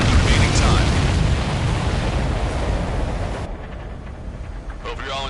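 Explosions roar in the Ace Combat 7 battle, a dense rumbling wash of blasts that cuts off abruptly and leaves a quieter bed under radio chatter.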